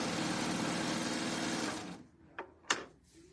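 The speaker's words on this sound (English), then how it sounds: "put my presser foot back down, and then continue to serge" A serger hums steadily and loudly as it sews the edge of a sunflower quilt panel, then stops, followed by two sharp clicks nearby.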